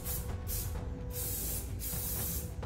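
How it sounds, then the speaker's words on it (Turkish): Keratin hair spray, used with a hair fiber thinning concealer, misted onto hair in several close, loud hissing bursts with short gaps between them. "Bu keratin spreyidir. Özel bir sprey."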